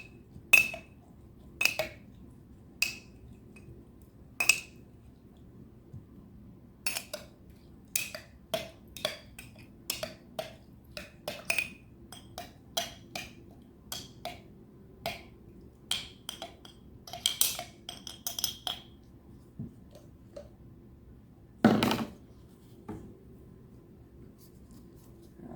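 Spoon stirring a turmeric and ginger extract mixture, with sparse, irregular clinks and taps against a container, faint and close in a quiet room.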